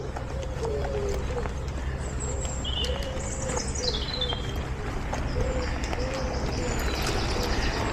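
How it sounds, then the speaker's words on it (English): Birds calling at a campsite, with repeated soft cooing phrases like pigeons or doves and a few higher chirps, moderately distant over a steady outdoor background hum; no clear talking. "Just listen to those birds."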